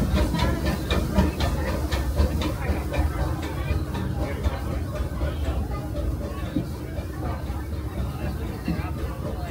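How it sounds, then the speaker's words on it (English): A Disneyland steam train runs on its rails, a continuous hissing, rumbling chug with rhythmic clatter, heard under a narrator's voice speaking throughout. "As we steam past Hungry Bear Restaurant, last outpost in these parts"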